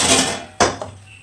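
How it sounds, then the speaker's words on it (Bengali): A metal wok is set down on a gas stove with one sharp clank that rings briefly, following a soft rushing noise. "এবার আমি কড়াইটা বসিয়ে নিচ্ছি গ্যাসের উপর।"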